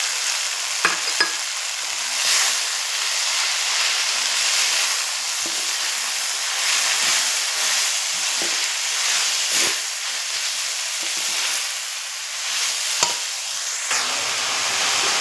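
Finely grated beetroot sautés in a pan with a constant bright sizzle and hiss, broken by frequent stirring scrapes and clinks over about fifteen seconds.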